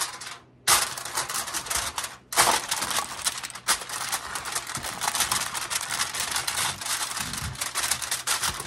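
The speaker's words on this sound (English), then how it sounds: "We're going to take us some foil, cover it up." Aluminum foil crinkles and tears in dense, crackling bursts as it is pulled off and pressed over a ham, potato and cheddar bake, close and steady with a few sharp rips.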